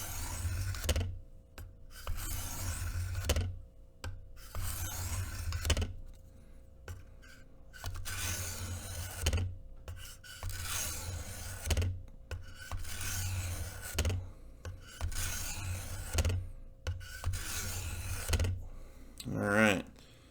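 A knife blade is drawn across a 600 grit diamond plate on a Work Sharp sharpener, producing close, gritty rasping strokes in bursts of a few seconds separated by short pauses.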